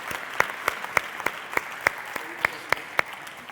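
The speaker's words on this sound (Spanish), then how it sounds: "Un aplauso a Paco." An audience claps for Paco at a debate gathering, a steady round of moderately close, rhythmic hand claps at an even pace, without cheering.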